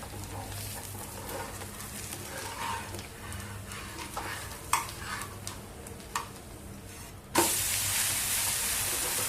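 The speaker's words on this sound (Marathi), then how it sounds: "आता मिनिटभर तवा असा फिरवून एकसारखं धिरडं भाजून घेतलेलं आहे" A barnyard millet dhirde pancake sizzles softly on an oiled griddle, with faint crackles and a few light scraping taps, followed near the end by a sudden louder hiss.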